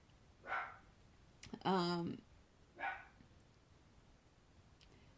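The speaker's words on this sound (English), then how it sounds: "if you hear my dogs barking" Pet dogs barking indoors in the background: three separate barks, the middle one louder and longer, spaced about a second apart, with a person briefly murmuring.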